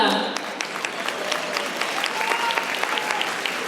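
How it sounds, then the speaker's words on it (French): Audience applause at the Gala de la francophonie plurielle 2024 in Ottawa, a steady wash of many hands clapping for nearly four seconds at moderate loudness, with no voices over it. "on va s'applaudir"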